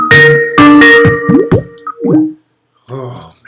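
Skype chat notification chimes on a computer: a run of bright, ringing tonal dings and short pinging blips in quick succession, then a brief pause before a softer burst of sound. No one speaks.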